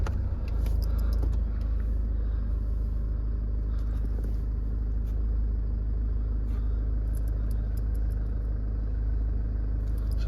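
A Jaguar XF 2.2 diesel R-Sport automatic idles with a steady, deep engine rumble heard up close, unbroken and even throughout, with no one speaking.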